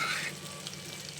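Hilsa fish frying in mustard oil, a steady hiss of sizzling with faint crackling pops, close and even over a brief moment.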